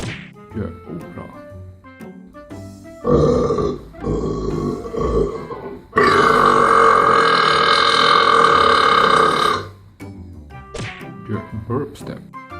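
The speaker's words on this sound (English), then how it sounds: "The opera." A man belches in an operatic singing style, sustaining a loud, tonal burp for several seconds after an earlier warbling stretch, with short guttural grunts before and after.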